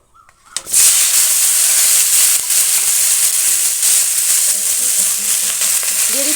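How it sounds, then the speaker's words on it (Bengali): Loud, steady sizzling of broccoli frying in hot oil, starting after a brief quiet moment and continuing densely throughout, with faint stirring noises. "এবার ওই ব্রকুলিগুলো আমি তেলের মধ্যে ভেজে নেব"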